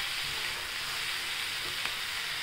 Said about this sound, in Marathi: आपण त्याच्यात ओलं खोबरं टाकूया, ओलं खोबरं टाकूया आणि परत त्याला हलवून घेऊ